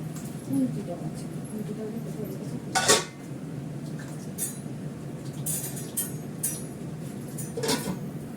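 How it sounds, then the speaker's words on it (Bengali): Sour green mango chutney stirred in a pot, with a loud metallic scrape of a spoon against the pan near three seconds and lighter clinks later, under a steady kitchen background with low voices. "টকটা বসিয়ে দিলাম, একটু নেড়ে দেবো।"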